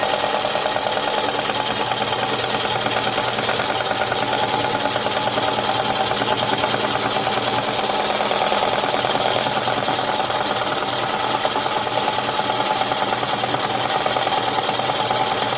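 Wood lathe turning a natural edge wooden bowl, a loud continuous whirring hum with the tool scraping and shaving steadily at close range, unbroken throughout.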